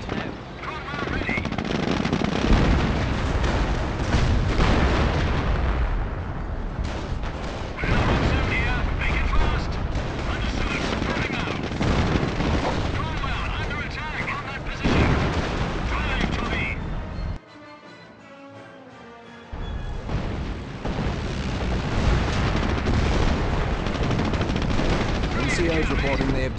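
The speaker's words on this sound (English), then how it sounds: "Creeping barrage on my markers." A creeping artillery barrage in the Company of Heroes battle for Caen, with continuous loud shell blasts, rattling gunfire and rumbling explosions. One brief lull comes before the bombardment resumes at full force.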